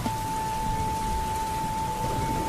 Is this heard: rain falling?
yes